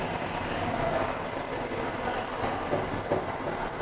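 A funicular-style inclined elevator at Huntington Metro Station rumbles steadily as it pulls into its upper landing, a continuous rolling mechanical drone with faint rail clicks, heard from inside the car.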